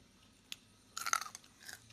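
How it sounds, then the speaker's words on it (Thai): Someone eating khao piak, a Lao rice noodle soup, close to the mic: a soft bite, then a short cluster of wet chewing and crunching sounds, followed by a fainter bite near the end, all quiet with no talking. "มาเด้อกินข้าวเปียกนำกัน"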